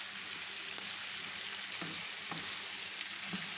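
Cabbage and mixed vegetables sizzle steadily as they are stir-fried in a pan, with a constant hiss of hot oil and occasional soft scrapes and knocks as the food is stirred.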